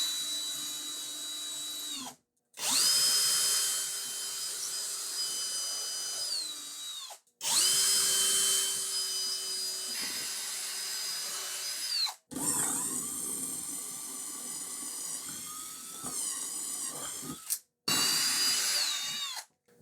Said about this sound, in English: I'm going to pilot hole with a small bit, drill this with a bigger bit